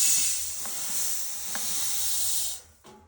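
Mustard seeds fry in a pan as dry-roasting spices for Guntur chili powder, giving a steady close hiss and sizzle that lasts about two and a half seconds before cutting off, with a few faint pops.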